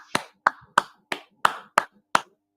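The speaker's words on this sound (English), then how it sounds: "Clap it up, clap it up." Seven sharp, separate hand claps ring out at a steady, roughly even pace, each crisp and close, with quiet gaps between them and no other sound.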